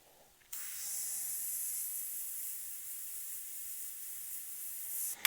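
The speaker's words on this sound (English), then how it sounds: "I've got the paint flowing the way I want it, and now I'm just randomly moving the airbrush around" An airbrush sprays paint to build texture on a skull design, a steady close hiss that starts abruptly after a moment of quiet and holds evenly until it cuts off near the end.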